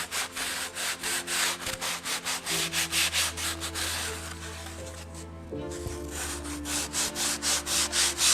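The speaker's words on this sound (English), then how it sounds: "and we sand the edges" Sandpaper rubs back and forth over the edges of a small cut wooden letter, a close, rhythmic scratchy rasp repeating in quick even strokes with a brief pause midway.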